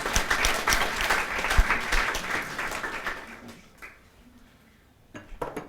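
An audience at a rent-to-rent property masterclass gives a round of applause, dense clapping for about three seconds that fades away, followed by a short quieter patter of claps near the end.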